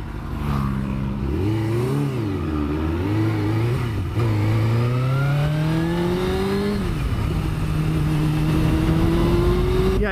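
A Suzuki GSX-R 750 K1 motorcycle engine revs continuously while being ridden, its pitch rising and falling through the throttle over a steady wind rush, loud and close throughout.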